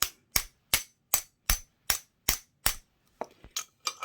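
A hammer strikes a nut on a treadle sewing machine in eight sharp, evenly spaced metallic taps, followed by a few lighter, quicker knocks, close and crisp with silence between blows.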